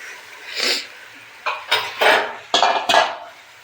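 Pav bhaji being added to a cooking pan, with several loud clanks and scrapes of a utensil against the metal pan in short bursts, close and clear.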